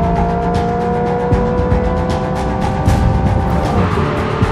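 A Hyundai IONIQ 5 N drives with its N Active Sound Plus synthetic engine note, a loud, close, sustained engine-like drone with faint tyre noise, no talk over it.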